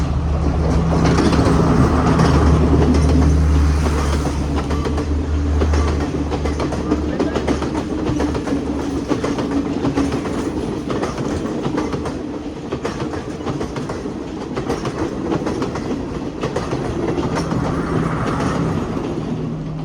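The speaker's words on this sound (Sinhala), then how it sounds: "කෝච්චිය යනවා. හරිද?" A train rolls past on a railway track, loud and close, with steady clickety-clack of wagons over rail joints throughout, a low rumble underneath.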